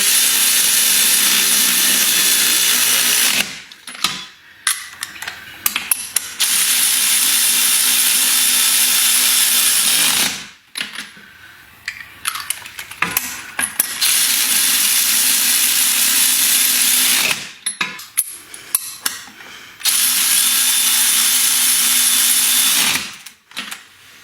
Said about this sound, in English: Now I'm going to put my lug nuts back on and I'll torque them to the correct spec.